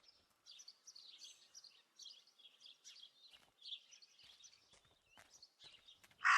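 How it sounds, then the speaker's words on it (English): Raven cawing in Martha Is Dead, with a series of harsh bird calls repeating in uneven bursts against a quiet background, moderately close, ending in a louder cry. "That raven is making a big fuss."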